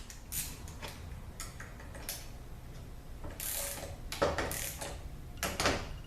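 A ratchet wrench tightens a bolt on a ZF6HP21 transmission in quick bursts of clicking with short pauses between, close and fairly quiet, with no speech.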